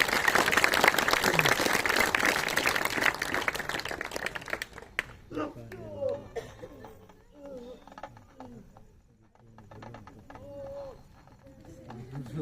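Young children clap together in a loud, dense burst lasting about four seconds, then the clapping fades out and leaves quieter outdoor sounds with birds cooing and calling.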